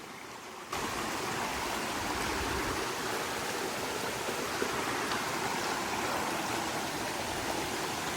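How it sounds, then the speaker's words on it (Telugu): Water flows in a stream at Devkund waterfall in Maharashtra during the monsoon, a loud, steady broadband rush that starts abruptly after a brief quieter moment and continues without pause. "ఇప్పుడు కొంచెం సేపు ఆ వాటర్ ఫ్లోని ఎంజాయ్ చేద్దాం."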